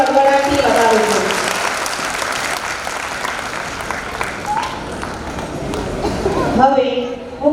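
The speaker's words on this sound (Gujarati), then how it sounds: "જોરદાર તાળીઓના ગડગડાટથી વધાવું છું" An audience at a school annual function applauds in a dense, steady wash of clapping that lasts throughout. A voice speaks over the start and again near the end.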